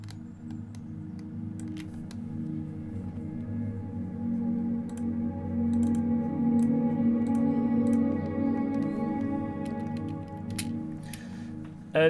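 An Omnisphere software synth pad preset sustains as a steady, warm, evenly held chordal drone, with faint scattered clicks and ticks layered over it and no speech.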